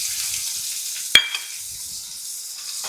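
Chopped onion sizzles steadily in hot oil in a pan for a quick lunch-box dish, a continuous close hiss with a sharp clatter of the onion dropping in partway through.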